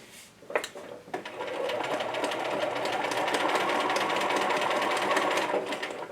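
A sewing machine runs steadily for several seconds, stitching a wavy, elastic-style zigzag seam on fabric. A few short clicks come first, then the motor settles into a loud, continuous whir that holds to the end.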